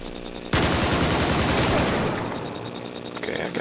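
Loud automatic gunfire from Battlefield 4 rattles in a rapid, sustained burst of shots. It starts abruptly, stays close and dense, and fades slightly toward the end with no talk over it.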